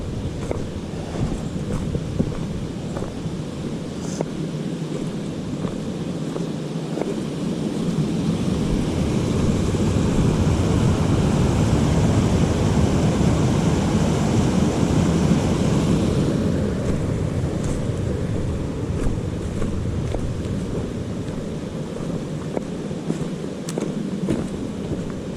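Rushing water of a mountain creek beside a hiking trail in the Great Smoky area fills the scene with steady broadband noise, swelling louder in the middle as the walker draws near, blended with wind buffeting the microphone.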